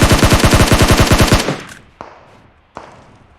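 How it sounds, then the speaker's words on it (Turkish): Automatic gunfire in the shooter game PUBG on the desert Miramar map, a loud rapid burst of about fifteen evenly spaced shots, then a fading tail and two single sharp shots. "Beni gördü bana sıkıyor."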